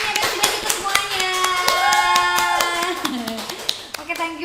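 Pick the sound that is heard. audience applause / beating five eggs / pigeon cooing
audience applause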